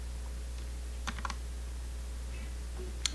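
A few soft computer keyboard key presses, a quick cluster of clicks followed by one more tap, faint against a steady low hum.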